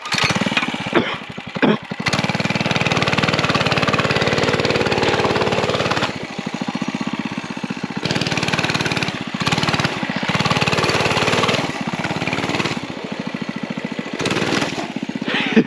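A mini bike engine towing a sled at night runs with a loud, raspy drone, rising and falling with throttle, cutting briefly near the start and dipping again around the middle before picking back up.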